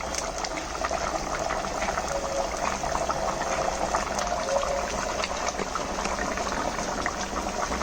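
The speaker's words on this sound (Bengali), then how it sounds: "ঝোলটা ফুটে গেছে" Rohu fish curry broth with cauliflower bubbling in a pot, a steady, close and continuous boiling rumble with a soft watery hiss throughout, no voices.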